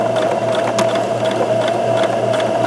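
A sewing machine backstitches the start of a center-back skirt zipper seam, a steady, close, loud whirring hum with a rapid needle rhythm running unbroken throughout.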